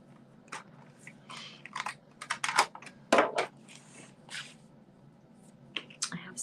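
Scissors cut a small half circle out of paper for a handmade card, producing quiet, close snipping and crunching clicks in short irregular clusters against a soft background hum.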